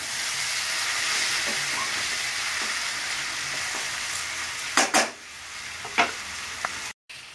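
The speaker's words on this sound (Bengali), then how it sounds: "এইভাবে বারবার কষতে হবে।" Raw jackfruit with potatoes and spices is stir-fried in a pan, giving a steady close sizzle broken near the end by a few scraping stirs.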